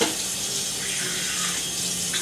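Tap water runs steadily into a sink while someone rinses their mouth, a continuous close hiss and splash with no talking.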